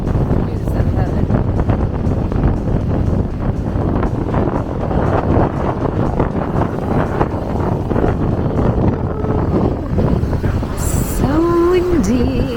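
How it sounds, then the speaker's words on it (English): Strong wind buffets the microphone in a steady roar on a cruise ship at night, with a voice talking faintly underneath and a brief tonal whine near the end. "So windy."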